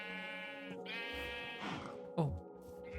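Sheep in the Minecraft video game bleating: a long wavering baa followed by a couple of shorter bleats, close and clear, with a faint thump partway through.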